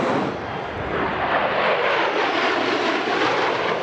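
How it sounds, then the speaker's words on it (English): Thunderbirds jet aircraft roaring overhead near Hill Air Force Base, a loud, continuous broadband engine rush that holds steady through the clip with no talking. "When the Thunderbirds are in the sky, it gets loud."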